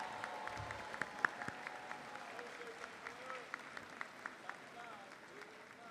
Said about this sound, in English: let's give a round of applause for all the mothers in the house today